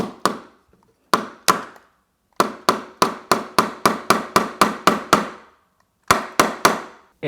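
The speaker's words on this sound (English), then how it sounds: "Let's try to nail this in." Repeated sharp metallic taps of a small multi-tool hammer head driving a nail, in uneven bursts of strikes with short pauses between, close and loud with no talking.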